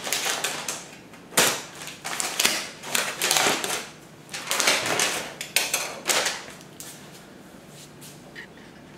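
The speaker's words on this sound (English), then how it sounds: "I've already started unwrapping it and I thought I'd grab the camera." A newly delivered beehive is unwrapped in a series of crinkling, tearing and rustling bursts of packaging. They come in irregular clusters, close and moderately loud, with no speech.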